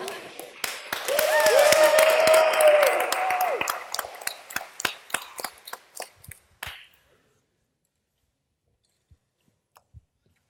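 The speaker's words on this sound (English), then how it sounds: "guys can clap louder than that." Audience at a talk on brand engagement with Instagram and Snapchat clapping, starting mixed with cheering and a voice, then thinning to sparse separate claps that stop, leaving near silence.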